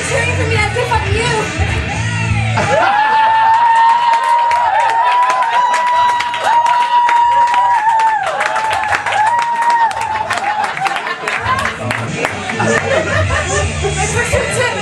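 A live audience at a comedy show cheers and applauds loudly and without a break, with chatter and chuckles mixed in and a sustained tone running through the middle.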